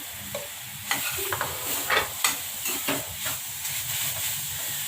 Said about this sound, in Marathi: एकत्र तुपामध्ये परतून घेऊ